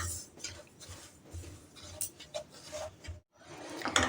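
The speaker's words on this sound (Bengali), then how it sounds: "আমি 2 সেকেন্ড ধরে সুজিটাকে নেড়ে নিয়েছি" Semolina being stirred in a pan, heard as soft, irregular scraping and rubbing taps of a utensil against the pan, quiet and close, with a short pause near the end.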